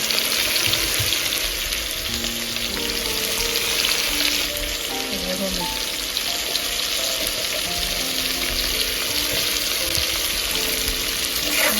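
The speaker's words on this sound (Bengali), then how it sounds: "নাড়াচাড়া করে নিতে হবে। আলুগুলো সুন্দর করে ভেজে নিতে হবে।" Potatoes seasoned with salt and turmeric fry in hot oil, a steady close sizzle with a spatula occasionally scraping and stirring through them; no one speaks.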